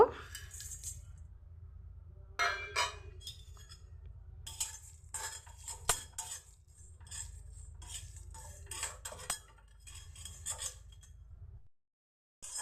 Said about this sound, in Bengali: এখন আমি প্রথমে মশলাটা ভেজে নেব।